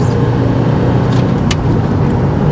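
Engine of a Subaru car with a sketchy clutch idling steadily, a loud continuous low rumble heard from up close with a couple of faint higher clicks, no voices.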